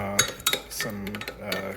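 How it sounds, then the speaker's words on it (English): A metal spoon stirs broth concentrate into hot water in a pot or bowl, making several quick clinks and scrapes in an uneven rhythm, fairly quiet and close. "just kind of like mixing it with some hot water so it's not like a lump in there"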